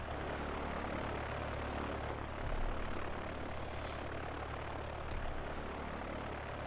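Propeller engine drone of a DC-3 Dakota airliner in Transport Fever, a steady, fairly distant broadband hum with slight swells, no voices over it.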